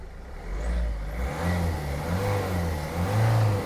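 A Ford C-MAX engine with a newly replaced turbo revs up several times at close range, rising and falling in pitch with no talk over it.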